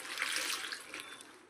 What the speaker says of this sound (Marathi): परत दुसऱ्या पाण्याने चांगले स्वच्छ धुवून घेणार आहे.